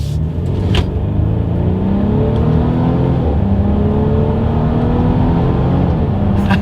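A 2023 Mercedes-Benz GLC 300 Coupe accelerates in sport mode, its engine droning loud and steady from inside the cabin with rising tones through gear changes.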